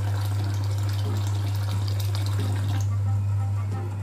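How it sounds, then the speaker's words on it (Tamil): Water from rinsing a mixer jar is poured into a pot of soaking pearl millet porridge, a steady gushing pour over a constant low electrical hum. "இந்த மிக்சியை கழுவி அந்த தண்ணியும் இதிலே சேர்த்து ஊற வச்சிடலாம்."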